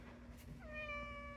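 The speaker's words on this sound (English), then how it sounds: "See, want to see the cat with the world's cutest meow?" A cat gives one clear, drawn-out rising meow, close and fairly soft, over a faint steady background hum.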